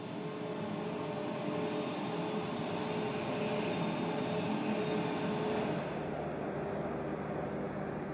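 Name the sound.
train on railway near Komati Port border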